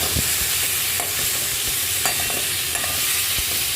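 Potatoes and pointed gourd stir-fried in a pan give a steady, loud sizzle with scraping stirs and occasional clinks close by, and no voices.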